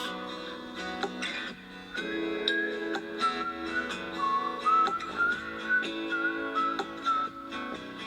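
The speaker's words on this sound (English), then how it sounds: "I love this whistle part right here so much." A clear melodic whistle carries the tune in a song, over a steady musical backing with a ticking, plucked rhythm, rising and falling in short phrases.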